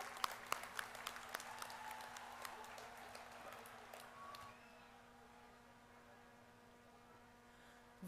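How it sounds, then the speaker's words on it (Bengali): An audience applauds at a chairman's 74th birthday celebration at an engineering institute, with scattered claps over a hall hum that fade out after a few seconds, leaving only low room noise. "তার জন্য সবাই সমবেতভাবে একটু জোরে করতালি"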